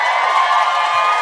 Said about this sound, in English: give me a round of applause if you've ever heard the podcast before.